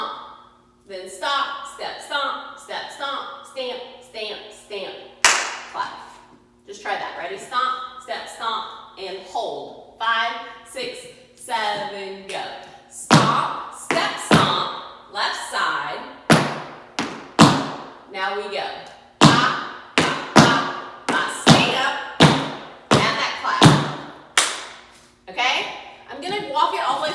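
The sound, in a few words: tap dance stomps, stamps and clap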